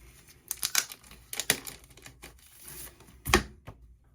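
Crinkly plastic rustling and sharp crackles as a sealed comic book package is opened, a few close bursts of handling noise with a louder crunch near the end and quiet gaps between.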